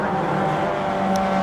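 Stock Hatch race cars lapping Silverstone, including a smoking Citroën Saxo, heard as a continuous mid-distance engine drone with no break.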